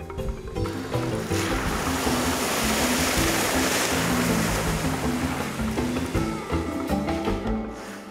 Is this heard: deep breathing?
no